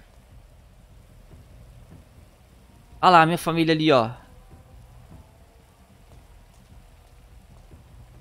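Steady rain in the video game GTA 5 hisses softly in the background throughout, low and even, while a voice speaks briefly in the middle.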